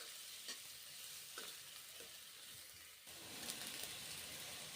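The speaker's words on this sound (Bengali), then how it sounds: "ভেজে নিচ্ছি রোস্ট করা ধনে জিরে।" Roasted, ground coriander and cumin frying in a pan: a steady, close sizzle with soft crackling runs throughout, broken by a few quick stirring scrapes.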